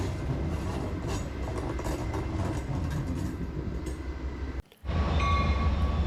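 A Trinity Metro commuter train from Dallas Union Station pulls into Fort Worth station with a steady, fairly loud rolling rumble and rail noise. The sound cuts out briefly near the end, then returns with a lower hum.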